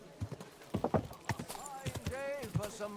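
Horse hooves clip-clopping on a ride in Kingdom Come Deliverance 2, quick irregular thuds close by, mixed with a brief whinny and someone talking over them.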